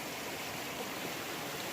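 A creek at night where gold panning is about to happen flows steadily, a constant close, even hiss of rushing water with no other sounds.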